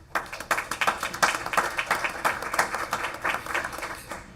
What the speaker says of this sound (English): if you can please join me all to give them again another big round of applause for being here